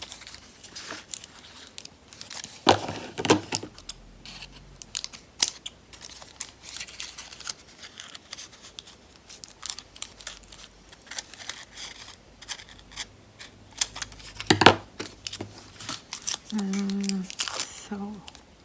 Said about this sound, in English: So I'll just cut out the double tape now.